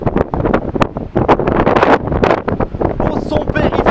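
Strong wind buffets an outdoor microphone in New Zealand countryside, a constant loud rumbling roar with gusty swells that runs throughout, with people talking over it.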